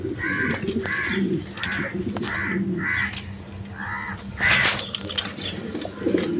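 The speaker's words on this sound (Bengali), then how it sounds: "দর্শকবৃন্দ এইখানে এক পেয়ার রুমাল গান কবুতর আছে" A pair of Rumal Gan pigeons coo in a series of rhythmic, throaty calls repeating about once per second, close and fairly loud, with faint background noise.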